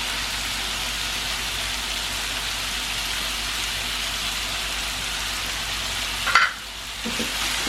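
Chicken pieces fry in cream in a pan for a spicy chicken sandwich, giving a steady, close sizzle that runs unbroken, then a brief stirring clatter near the end before the frying resumes.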